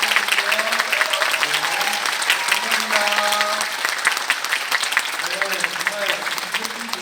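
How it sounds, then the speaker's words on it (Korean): A concert audience applauds three guest actors during a curtain call, a sustained dense round of clapping with a host's voice and some cheering over it, holding strong for several seconds. "여러분 큰 박수!"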